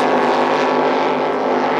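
Race cars powered by 253 4.2-litre Holden engines roar past, a loud, dense and continuous engine drone with harmonic whine filling the whole moment, no pause.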